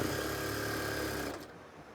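A sewing machine stitching along a seam margin on a kameez neckline, a steady close mechanical whirring hum that cuts off near the end.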